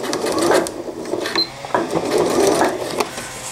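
A sewing machine stitches an elastic casing on a cloth diaper cover, a close, steady mechanical whir broken by brief pauses and restarts.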